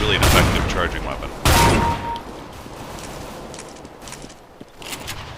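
Two loud shotgun blasts from a video game, one at the start and another near 1.5 seconds, each with a sharp report and a decaying tail, followed by quieter game ambience.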